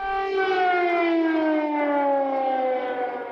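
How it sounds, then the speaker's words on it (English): Air raid sirens wail over Kyiv, Ukraine, a loud sustained tone that slowly drifts downward in pitch, rich in harmonics and carrying steadily with no voices. "air raid sirens again rang out over Kyiv"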